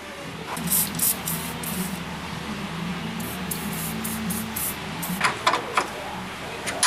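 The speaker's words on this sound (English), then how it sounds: "Let me give that a little spray of penetrating oil." Several short hissing sprays from an aerosol can of penetrating oil, close by, coming in quick bursts with pauses between, over a steady low background hum.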